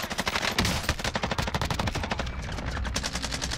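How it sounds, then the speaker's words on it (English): Rapid automatic gunfire in a video game shooter, a dense continuous stream of close, loud shots in quick rhythmic bursts lasting the whole few seconds without pause. "Oh crap, no they're shooting at me"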